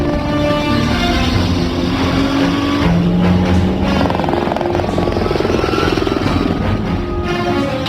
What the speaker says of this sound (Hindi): वो हेलीकॉप्टर से आ रहे हैं।